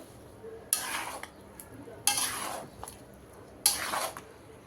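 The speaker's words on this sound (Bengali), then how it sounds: "এখন নেড়ে চেড়ে মিশিয়ে নেব" Mango pickle is stirred and mixed in a pot, three distinct scraping strokes of a spoon against metal at roughly even intervals, close and moderately loud, with quiet pauses between and no talk.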